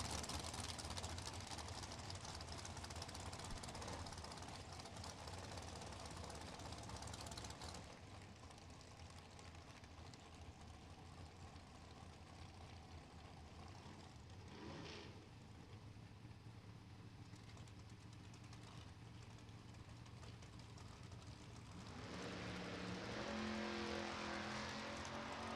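A supercharged dragster runs at a drag strip test-and-tune event, heard as a steady, loud engine roar with broadband rumble that drops in level partway through, then swells again near the end.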